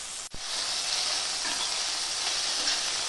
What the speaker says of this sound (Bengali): পটলগুলো তেলের মধ্যে দিয়ে একটু নেড়ে চেড়ে নেব